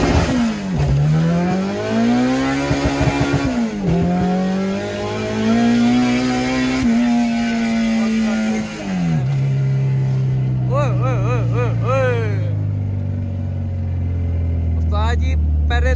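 A Honda K24 naturally aspirated engine making 263 wheel horsepower on petrol, in a car launched hard with its wheels spinning. Loud, close engine pitch climbs through several gears with clear shifts, and chirpy bursts follow near the end.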